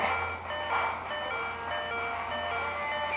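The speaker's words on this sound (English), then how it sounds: "Beeping is really annoying me." Steady electronic beeping tones from Pokemon Ruby sound continuously at moderate volume, a repetitive chiming pattern with no pauses and no talking.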